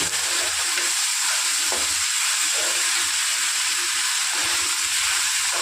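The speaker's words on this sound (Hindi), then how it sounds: "अब इसी रिफाइंड ऑयल में हम डाल देंगे चना का दाल। अब इसे चला देंगे हम।" Chana dal frying in hot refined oil while being stirred in a pan, a steady loud sizzle and hiss running throughout with faint scraping from the stirring.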